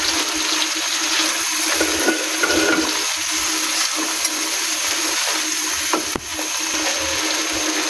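Chopped green chilies hit a pan of cooking red kidney beans, giving a loud, steady hiss and sizzle with faint stirring scrapes and one sharp knock near the end.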